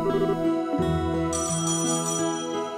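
An in-game phone call produces a continuous electronic ringing tone with layered melodic notes that shift in pitch across nearly three seconds, loud and steady with no voices.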